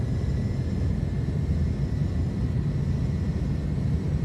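Jet engines of an iniBuilds A310 roar at takeoff power in Microsoft Flight Simulator, a steady, loud low rumble with a faint whine, continuous and unbroken for the whole stretch.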